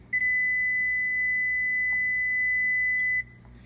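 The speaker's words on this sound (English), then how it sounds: "It made that beep to let me know that it has already preheated" A single long, steady electronic oven beep signalling preheating rings out for about three seconds against a low background hum, then cuts off.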